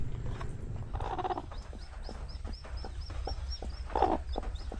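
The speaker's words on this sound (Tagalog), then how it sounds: "May sisiw na siya." Small high chick peeps repeat in a steady series over a farmyard with clucking chickens and low background noise, fairly near and moderately loud.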